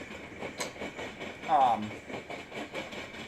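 A freight train rolls past at the Griffith diamonds as its rear end goes by, a steady rumble with faint rhythmic wheel clicks and a brief squeal, heard at moderate distance.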